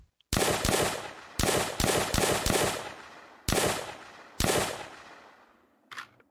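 Loud, close M1 carbine gunfire in an Unreal Engine Nazi Zombies video game, several bursts of rapid semi-automatic shots separated by pauses, each ringing out into decaying echo, ending with a short mechanical clack.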